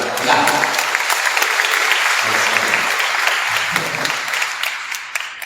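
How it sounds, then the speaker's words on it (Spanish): Steady audience applause in a small live setting at a podcast recording, a dense patter of many hands clapping throughout with a faint voice or two murmuring underneath. "hay que darle un aplauso para animarla"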